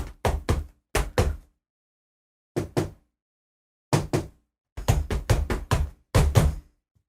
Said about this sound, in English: I will do the trick knock